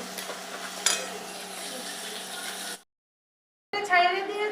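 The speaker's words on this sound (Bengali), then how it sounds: "আমরা এর মধ্যে দিয়েছি জিরে, একটু ধনে আর একটু কাশ্মীরি লঙ্কার গুঁড়ো, আর দিয়ে কষাচ্ছি জিনিসটাকে।" Rohu fish being stirred in a pan with cumin, coriander and Kashmiri chilli powder, a continuous scraping sizzle that cuts out partway, then returns with brighter frying and clatter.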